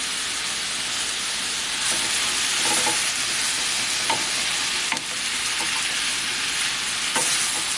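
Spices sizzling in a hot pan for pork ribs with garam masala, a loud continuous hiss and crackle of frying with a few light stirring taps.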